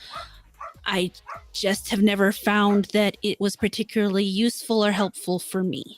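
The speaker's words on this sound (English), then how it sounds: "You can hear the dog in the background going" A dog barks and yips in the background, mixed under a woman's continuous speech that dominates the whole stretch.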